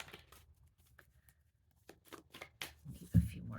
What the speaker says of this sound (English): Need a few more shuffles.